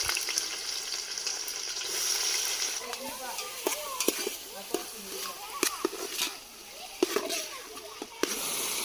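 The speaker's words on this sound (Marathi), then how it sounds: "हे टाकलंय तेल, खूप सारा चिरलेला कांदा" Lots of chopped onion hits hot oil for pav bhaji cooked outdoors in a forest, a bright continuous sizzle with popping crackles and spoon knocks against the pan, heard up close.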